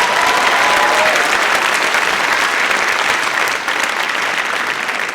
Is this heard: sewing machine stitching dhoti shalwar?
no